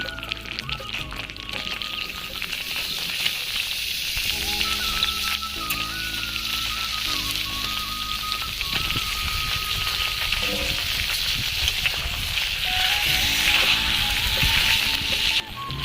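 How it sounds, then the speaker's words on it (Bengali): Mango pieces drop into hot melted sugar syrup, giving a steady, loud bubbling sizzle with watery hiss that runs continuously throughout. "এবার আমি আমগুলো চিনি শিরার মধ্যে দিয়ে দেব"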